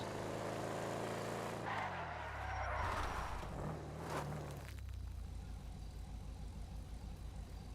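A car drives down the road in GTA 5 Online, its engine a steady low drone that drops in pitch early on, with faint road noise underneath and no talk.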